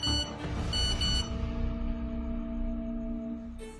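A phone sounds a message notification, a repeating electronic beeping tone that pulses several times and then holds, fairly loud and alone.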